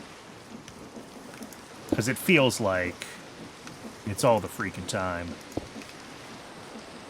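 Steady rain falling in the Minecraft video game, a constant hiss of drops throughout, with someone talking over it.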